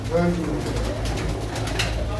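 Pigeons coo softly at a loft in a brief low call near the start, under steady background noise and a faint murmur.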